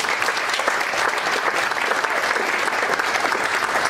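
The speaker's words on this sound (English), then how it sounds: "Nice round of applause for them." Audience applause fills a fundraiser event hall, a dense, steady clapping from a large crowd that holds evenly at full volume throughout.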